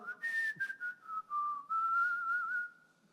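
Someone whistles a wavering tune up close, a single clear tone that slides up and down in short phrases.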